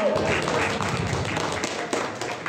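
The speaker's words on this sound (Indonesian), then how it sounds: "Mari berikan tepuk tangan yang sangat meriah untuk beliau" An audience at a village talk show in Desa Terban, Batang, breaks into loud, dense applause that holds steady throughout.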